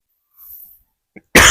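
A single harsh cough bursts out loudly and close at the end, after a faint breathy sound and a brief click, with a man searching bamboo clumps during Ramadan nearby.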